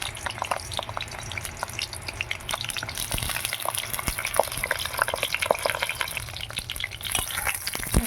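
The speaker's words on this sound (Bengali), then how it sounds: "পটলগুলো তেলে ছেড়ে দিলাম" Pieces of pointed gourd fry in hot mustard oil in a heated wok, giving a dense, continuous crackling sizzle with rapid pops throughout, close and fairly loud with no talking.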